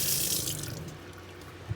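Water from a Seaflo caravan pump, rated at about 11.3 litres per minute, gushes steadily from a tap in a 1978 Millard Mini Pop caravan, a constant close hiss and splash with no talking.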